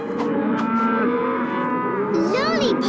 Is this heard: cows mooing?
yes